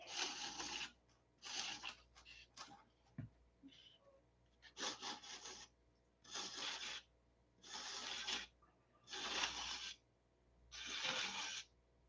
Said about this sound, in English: So we will just sand them separately.